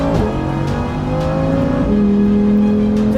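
Lamborghini Huracan Evo engine while drifting, loud and close, sustained revving with rising and shifting pitch and tire noise.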